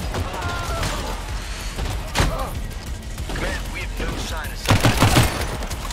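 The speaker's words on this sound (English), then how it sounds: "I'm getting shot in the back" Video game gunfire strikes the player from behind, rapid volleys of shots with sharp bursts near the start and end, heard under a speaking voice.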